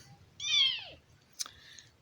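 A single soft cat meow, a short falling cry, followed by a brief faint chirp, heard alone against quiet background hum.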